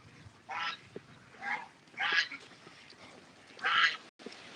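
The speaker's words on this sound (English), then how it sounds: "I fed the ducks." Ducks being fed outdoors let out four loud, separate bursts of raspy quacking close by, with short quiet gaps in between and rain softly in the background.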